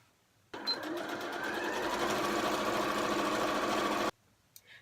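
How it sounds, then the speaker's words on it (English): A sewing machine runs a single continuous burst of about three and a half seconds, stitching the side seams of a fabric dog pouffe, loud and close with a steady whirring drone, then stops. "I'm just going to sew 1, 2, 3. So it's like side seams"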